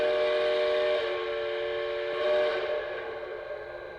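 A chime-like multi-tone whistle on a Lionel Union Pacific 4-12-2 model steam locomotive sounds steadily for about four seconds, with a brief swell near the middle and a slight fade toward the end, with no talking over it.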